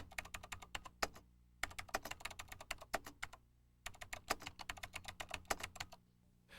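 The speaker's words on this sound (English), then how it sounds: "And then type in the message." Fingers type on a computer keyboard in close, crisp bursts of rapid key clicks, separated by short pauses, with no talking.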